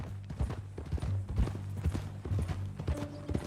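Horse hooves clip-clop at a steady walking rhythm in Red Dead Redemption 2, close and fairly loud, with a faint tonal hum underneath and no talking.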